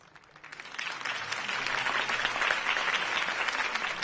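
A crowd applauds a campaign speech in the Batman Telltale video game, swelling quickly from quiet into dense, sustained clapping that stays loud and even to the end.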